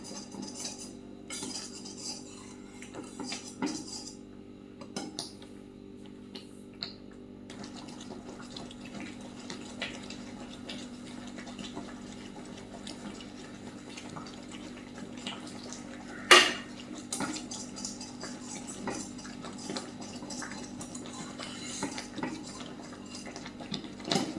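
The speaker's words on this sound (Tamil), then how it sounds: "இனி கொஞ்ச நேரம் கிண்டிட்டோம் அப்படின்னா நமக்கு நல்ல இறுகி போய் நல்லா வரும்" A spoon stirs black urad dal kali in a pan with oil, giving soft continuous scraping and clinking close by, plus one sharper metallic knock partway through.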